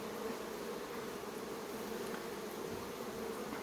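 Honeybees buzz steadily in an opened ten-frame hive after smoking, a dense continuous drone of many wings heard close up with no breaks.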